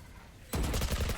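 A sudden burst of rapid Vandal rifle fire in a Valorant match, shot through a smoke, rattles out loud and close as quick repeated cracks.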